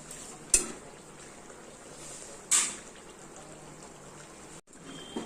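Pabda fish curry simmers in a pan with a soft, steady bubbling, broken by two sharp clinks of a utensil stirring against the pan and a brief scrape near the end.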